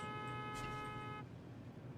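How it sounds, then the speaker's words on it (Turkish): A steady, muffled car horn tone in a parking lot simulation game holds for about a second over a low engine rumble, then cuts off, leaving only the background drone. "Korna yapma dayı. Korna yapma."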